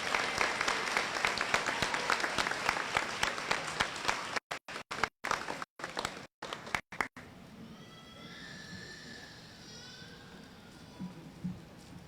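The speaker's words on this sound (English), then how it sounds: "Big round of applause for those 2 outstanding students." Crowd applause for award recipients at an 8th grade promotion ceremony, a loud sustained burst of clapping that cuts out abruptly and gives way to quieter room noise.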